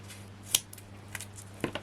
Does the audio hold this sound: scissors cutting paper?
yes